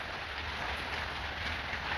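Rain falls in a steady, even wash of close hiss that continues without a break, with a low rumble underneath.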